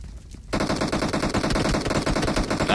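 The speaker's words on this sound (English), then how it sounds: "Now they're shooting from multiple ends." Video game gunfire in a multiplayer match: after a quiet half second, rapid automatic bursts crackle nonstop from several directions, dense and fairly loud, with mixed nearer and farther shots.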